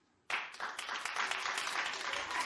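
A daytime talk show studio audience breaks into applause after near silence, with a sudden onset of dense, close clapping that holds steady for about two seconds.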